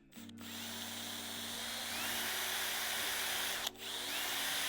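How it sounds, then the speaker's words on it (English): A power drill turns a very small bit while piloting a hole during installation of a rear wing on a BMW G87 M2, a steady close whine held for several seconds with a brief break near the end. "so we start off with a very small drill bit"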